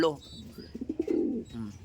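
A pigeon coos close by in a short burst of soft, throaty pulses, with a voice speaking just before and after.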